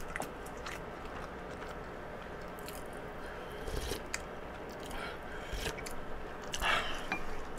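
Soft, wet chewing of soy-marinated salmon during a mukbang meal, close and steady with faint squishy bites and small smacks over a low constant background hum, with no talking.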